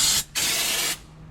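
3M undercoating sprays onto a 1977 Chevy Silverado in two loud, close hissing bursts separated by a brief gap, then cuts off into quiet.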